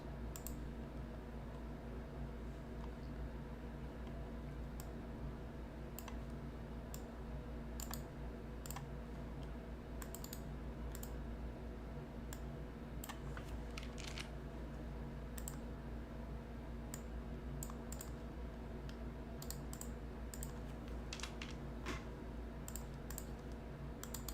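An old Amazon printer printing, its clicks and taps scattered irregularly like a typewriter over a steady low hum, faint and at a slight distance.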